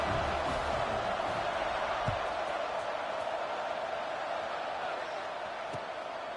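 A stadium crowd in a football video game roars steadily at a kickoff. The dense cheering stays loud and even throughout, with a couple of faint thuds and no one speaking over it.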